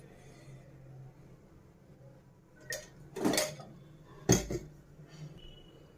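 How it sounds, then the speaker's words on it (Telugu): A kadai pan is set down on a stove and oil goes in, with a few loud metallic clanks and knocks close by against a faint quiet background. "కడాయి పెట్టేసుకొని మనం ఒక త్రీ స్పూన్ ఆయిల్ యాడ్ చేసుకుందామండి"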